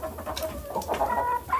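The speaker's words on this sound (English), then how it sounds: "So the big rooster coming up close" Domestic chickens with a big raspberry-combed rooster close by, giving soft repeated clucks and short tonal calls over faint background hens, no talking.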